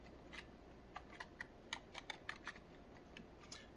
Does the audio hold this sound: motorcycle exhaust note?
no